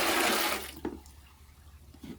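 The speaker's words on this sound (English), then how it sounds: "Let's go empty the dirty water tank on the Dreame L60." Dirty water poured out of the tank of a Dreame L60 robot mop, a close splashing gush that tapers off within half a second, followed by a few quieter drips and trickles.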